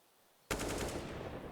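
Gunfire in Counter-Strike: Global Offensive during a competitive match: one sudden loud burst of rapid automatic shots, close and crisp, ringing out after a moment of near silence.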